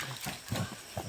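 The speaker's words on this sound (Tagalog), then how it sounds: "Karga ng kabayo, karga ng nyug." Hooves of a horse hauling a load of coconuts on a rural Philippine copra farm, a brief burst of clip-clop steps close by with outdoor noise, no talking.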